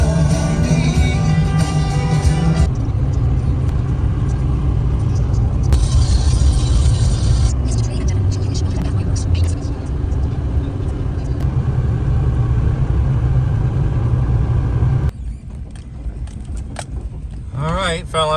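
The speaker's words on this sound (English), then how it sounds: "driving loads of stone one at a time in a skid steer" A skid steer hauling a load of stone along a rough road rumbles and drones nonstop, close and loud, its engine steady with a shift in tone near the end, and a few rattles over it.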